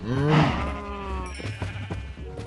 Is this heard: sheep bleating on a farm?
yes